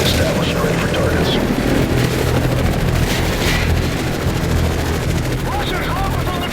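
Helicopters in the combat video game Modern Warfare 3 drone with a continuous, loud rotor chop through dense battle noise, with scattered cracks and booms and soldiers' voices over the top.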